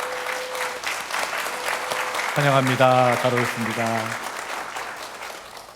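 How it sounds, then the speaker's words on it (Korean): Congregation clapping to welcome visitors at a Sunday church service, steady applause throughout while someone speaks over it in the middle. "큰 박수로 환영하겠습니다"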